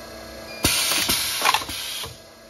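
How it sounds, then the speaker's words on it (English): On a Liberty DSEL23 automatic downspout and elbow machine, the cylinders cutting off produce a sudden loud mechanical clank, then a series of rattling metallic clicks and knocks over a steady motor hum, close by. "I can just hit cut off by pressing this button, and they will both operate."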